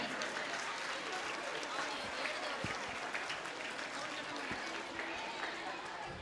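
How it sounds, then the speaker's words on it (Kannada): Loud, sustained applause from parents, teachers and students at a school day event, a dense crowd clapping steadily through the whole stretch without fading. "ನಮ್ಮ ಎಲ್ಲ ಪೋಷಕರಿಂದ, ಶಿಕ್ಷಕರಿಂದ, ವಿದ್ಯಾರ್ಥಿಗಳಿಂದ ಜೋರಾದ ಚಪ್ಪಾಳೆ."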